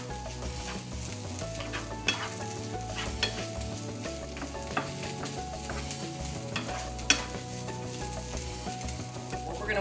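Quinoa and salmon sautéing together in a pan, a quiet continuous sizzle with occasional soft utensil clicks and stirs, no voices.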